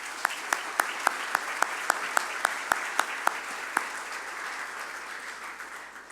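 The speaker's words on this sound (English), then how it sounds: "Please join me in giving them a round of applause." An audience at a city State of the City event applauds city officials, a broad wash of clapping with a few sharp individual claps standing out early, fading gradually toward the end.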